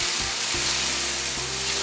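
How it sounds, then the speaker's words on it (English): Mustard paste sizzles and fries steadily in a pan, a continuous close hiss with faint stirring, no voices. "I'm going to fry this for almost 1 minute."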